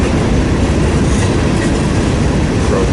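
A Conrail-era freight train rolls past on the Fort Wayne Line, a loud, close, continuous rumble with rhythmic clickety-clack of wheels over rail joints and no voices.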